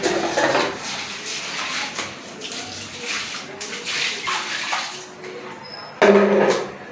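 Water splashes continuously as it is poured onto a floor indoors for wiping with a squeegee during household cleaning, with a louder surge of splashing near the end.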